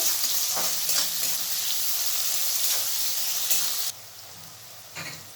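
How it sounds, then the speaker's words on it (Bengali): Chopped onions fry in a pan with a bright, constant sizzle while a utensil stirs them in quick scraping strokes. The sizzle drops noticeably quieter near the end. "পেঁয়াজগুলো একটু নাড়াচাড়া করতে হবে।"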